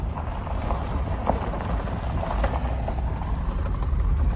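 A tractor approaches on a rural back road in Delaware County, heard as a loud, steady low rumble mixed with strong wind buffeting, with no talk.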